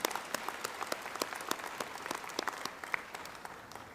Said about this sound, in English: please go ahead and clap.